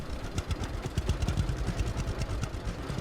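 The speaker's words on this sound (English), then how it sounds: "I wish the tractor wasn't so loud." A loud tractor engine in Lumberjack's Dynasty chugs and clatters at a steady idle, close and rough with a rhythmic knocking pulse throughout, alone without talk.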